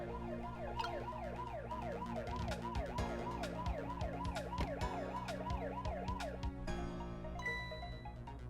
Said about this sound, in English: And then I turn the siren on when he's right there.